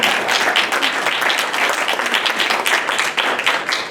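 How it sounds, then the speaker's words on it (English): Audience clapping at a school board meeting to honour student athletes after an unbeaten conference season: a steady, fairly loud burst of many hands, with no talk over it. "you can clap,"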